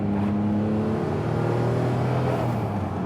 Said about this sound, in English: Those turbo wastegate noises are superb.